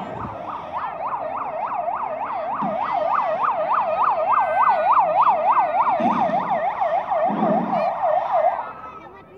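Ambulance siren at a volunteer fire brigade emergency drill, a loud, steady wailing sweep repeating rapidly for most of the clip, with traffic rumble beneath and a couple of brief low thuds.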